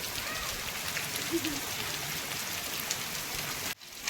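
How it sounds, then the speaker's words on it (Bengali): Steady heavy rain falls across a village, a continuous dense hiss of drops at moderate level that cuts off abruptly near the end, with a brief voice in the background. "খুব বৃষ্টি হচ্ছে আমাদের এদিকে"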